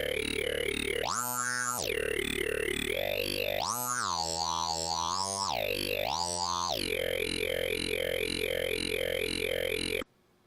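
A monophonic legato synth lead patch in Massive holds a loud, buzzy, bright note. A second note is pressed over it in repeated swoops, and each time it is released the pitch drops back to the held note. The sound continues steadily and then cuts off.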